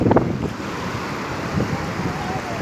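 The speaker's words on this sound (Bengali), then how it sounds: "দেখতেই পাচ্ছেন জল ছুঁয়ে চলে যাচ্ছে ফের।" Sea waves wash up on a beach in a steady low rush, with a louder surge at the start, heavy wind buffeting the microphone throughout.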